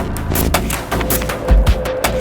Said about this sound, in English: So they start firing off quick.